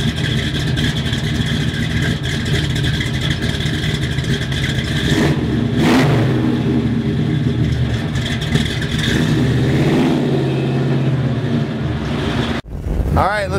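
Big-block V8 in a 1967 Chevrolet Impala fastback pulling hard on the road, a loud, steady engine roar with rising and falling revs under cabin noise, ending in a brief drop near the end.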